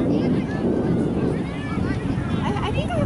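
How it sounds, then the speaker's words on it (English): Wind rushes steadily across the microphone at an outdoor youth soccer field, a constant loud buffeting under people chatting nearby. "right now it's just kind of windy"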